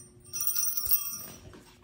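Small jingle bells sewn onto an ugly Christmas sweater that also has lights, jingling in a bright shimmering burst for about a second, close by and moderately loud, with no talking.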